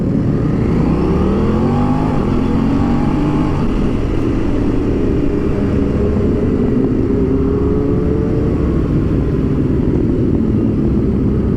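An Aprilia RS660 sport motorcycle being ridden on its first outing, its engine droning steadily and rising and falling through the gears, close and loud for the whole stretch, with no talking.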